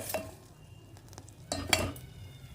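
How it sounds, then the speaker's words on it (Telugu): A spoon scrapes and stirs homemade ghee in a pot over a low flame, with a few soft clinks and scraping strokes over a faint low simmer, fairly quiet and with no voices. "ఇలా చిన్న సెగ మీద అడుగు అంటకుండా అప్పుడప్పుడు కలుపుతూ ఉడికించుకోవాలి."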